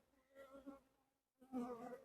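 Honey bees swarm around an opened beehive during a hive check, their dense buzzing rising and falling close by, easing off briefly before surging back louder.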